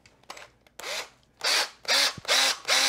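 A power drill spins a pen mill cutter against a brass pen tube in bursts: several short whirring, scraping runs of rising intensity, close and loud, separated by brief pauses with faint clicks.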